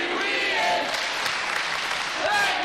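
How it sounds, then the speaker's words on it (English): Wrestling crowd at a no-DQ intergender match between Ian Rotten and Mickie Knuckles, a loud continuous roar of cheering and applause heard from within the arena. "Listen to the crowd."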